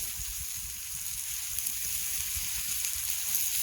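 Food sizzles steadily on a hot rock at a lakeside campsite, a continuous bright frying hiss with soft low crackles and pops throughout, close and fairly even in loudness.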